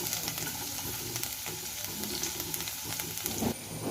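Ginger and garlic frying in hot coconut oil in a pan, a steady, loud sizzle with constant crackle and occasional stirring scrapes throughout.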